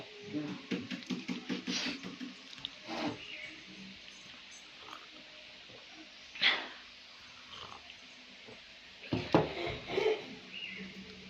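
Dogs near a busy small fast food stall give a few short, sharp barks spread across the stretch, over low background voices and clatter.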